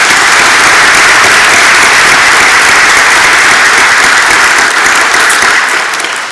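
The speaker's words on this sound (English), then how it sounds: "Let's have a round of applause for all of them." Loud, sustained round of applause from attendees at an annual meeting, thanking the serving staff; dense crowd clapping holds steady and tapers slightly toward the end.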